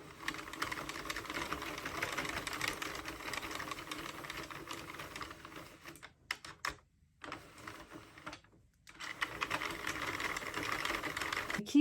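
A circular knitting machine, an Addi or Sentro, is cranked by hand with a rattling, clicking whir that breaks off in two short pauses before it picks up again.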